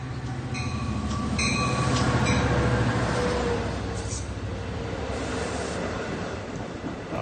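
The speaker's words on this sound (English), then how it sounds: "On Platform A is the 1:20 p.m. train to Montauk." A Long Island Rail Road passenger train rumbles steadily alongside the Mastic-Shirley station platform, wheels clattering with faint metallic squeals and hissing, a close, continuous mechanical roar.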